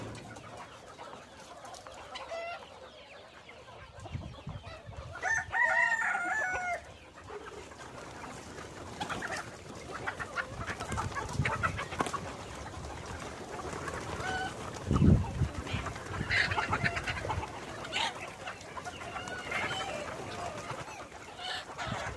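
Hens clucking and a rooster crowing at a poultry farm in the morning as the birds are let out, with bursts of cackling and crowing over steady bird chatter and brief faint talk.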